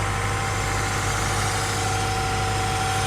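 A brand-new engine in a wrecked 2012 Toyota Camry idles under the open hood, a steady, close low rumble and hum without breaks and no talking.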